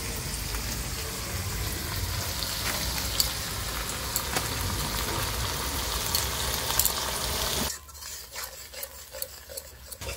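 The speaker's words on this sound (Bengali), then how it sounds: "এবার মশলাটা একটু ভালো করে কষিয়ে নেব" A spice paste of ground nuts and melon seeds, salt and sour yogurt sizzles steadily in hot oil, then the frying noise suddenly drops away to a few faint scrapes and clinks.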